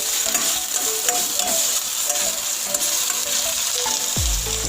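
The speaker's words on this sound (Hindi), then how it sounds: "अब इसमें लहसुन अदरक का पेस्ट डालूँगी।" Garlic ginger paste frying in a little oil in a frying pan, a steady close sizzle throughout with scraping stirs, ending in a low thud.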